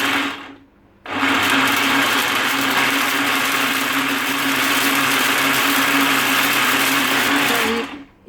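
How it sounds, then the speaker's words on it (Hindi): A blender blending falsa fruit for chutney whirs loudly and steadily for several seconds, starting abruptly after a short pause and cutting off near the end. "तो इसको ब्लेंड करेंगे अच्छी तरह।"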